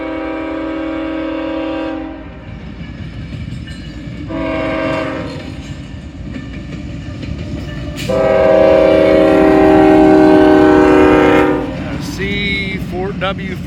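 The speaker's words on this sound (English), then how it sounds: "I believe this is a loaded auto rack train" Loaded auto rack freight train passing through Greenwich: loud, close rumble and wheel clatter with repeated blasts of a multi-tone train horn, several sustained honks over the steady roll of the cars.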